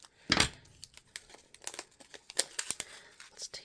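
Plastic nail art packaging being cut and opened, close crinkling and crackling with sharp snips and rustles in short irregular bursts.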